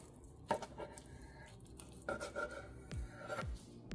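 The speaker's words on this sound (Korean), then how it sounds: "계란찜을 먹기 좋게 6등분으로 잘라주세요." Quiet, close knife cuts through soft steamed egg custard, with a few light taps on a cutting board spaced a second or so apart.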